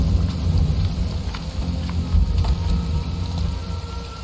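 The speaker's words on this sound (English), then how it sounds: "Rain will not stop us." Steady heavy rain with rumbling thunder in the Shadow Tactics: Blades of the Shogun stealth game, Suganuma Village mission, a constant dense wash with low booming rolls, no talking.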